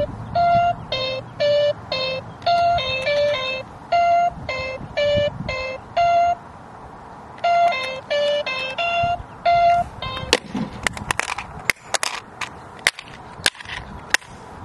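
Series of electronic beeps in short bursts and sequences from a handheld Memory Maze toy, a Simon-style memory game, followed by sharp clicks and taps.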